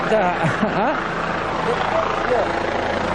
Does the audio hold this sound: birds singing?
no